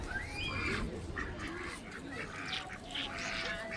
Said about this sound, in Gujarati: અહીંયા જો આ છે એટલા બધા બતક